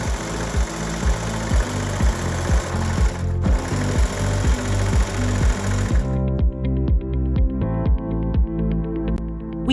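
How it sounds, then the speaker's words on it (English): A BabyLock Victory overlocker runs steadily while stitching and finishing fabric edges for a baby onesie, its needles pounding in a fast, even mechanical rhythm. The whir stays loud and close, with no talk over it. "I'm using the BabyLock Victory overlocker."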